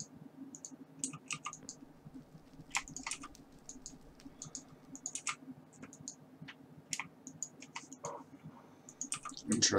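A computer mouse and keyboard click at a desk, with quick sharp clicks scattered irregularly over a quiet background hum.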